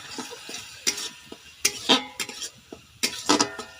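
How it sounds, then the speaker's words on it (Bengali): Spice paste with turmeric, chili and salt being stirred in a pan for a village-style Bengali small-fish curry, with sharp metallic scrapes and clinks of the spatula against the pan in an irregular rhythm, close and fairly loud. "মশলাটা ভালো করে কষাবো।"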